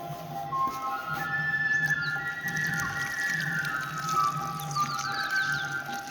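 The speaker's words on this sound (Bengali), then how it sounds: "বেশি করে জল দিয়ে দিতে লাগবে, সবই শুকনো তো" Water trickles and pours onto the soil of a freshly repotted apple seedling, a steady near splashing and gurgle with faint tonal whistles and a low hum underneath.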